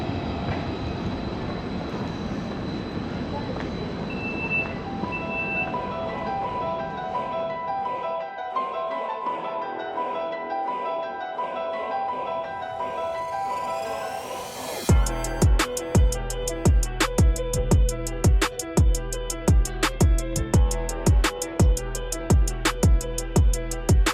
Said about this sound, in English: this is my next train towards the city of Bielefeld